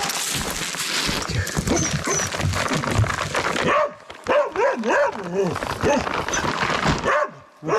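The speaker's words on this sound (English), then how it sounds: "The dog is barking like crazy in the cabin." A dog barks excitedly inside a cabin in the taiga, rapid repeated yips and barks up close, mixed with whimpering, while a person talks over it to calm the animal.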